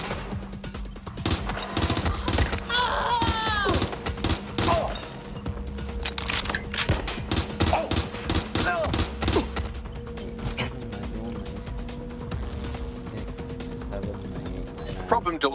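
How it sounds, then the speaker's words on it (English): Gunfire in the video game Watch Dogs: Legion, including an MP5, crackles in rapid bursts and repeated single shots with mechanical clicks, loud and busy, mixed with game sounds and a voice talking over it. "I'm taking fire."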